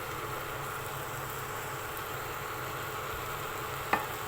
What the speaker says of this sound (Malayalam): ഉപ്പിട്ട് മിക്സ് ചെയ്യും